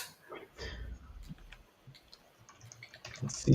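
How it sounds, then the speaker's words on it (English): Mechanical keyboard keys click in short, irregular bursts at close range. The typing is fairly faint against a quiet background and grows a little louder toward the end. "This is a good moment for this feature to have a mechanical keyboard."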